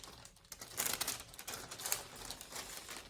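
Packaging of a colon cancer screening test kit being unwrapped, soft crinkly rustles and scattered tearing clicks in quiet close bursts, fairly faint throughout, with no voices.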